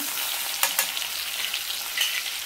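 A crushed paste of garlic, ginger, green chili, cumin, asafoetida, curry leaves and coriander fries in hot oil, giving a steady close sizzle with a few light stirring scrapes.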